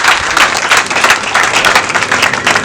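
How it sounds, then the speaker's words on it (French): Dense, steady applause from a large audience at an outdoor inauguration ceremony for a Top Oil fuel station in Kouassi Kouassikro, a village in Côte d'Ivoire; loud, continuous clapping with no voices standing out. "je voudrais bien qu'on applaudisse pour ce village-là qui apporte tant à la commune"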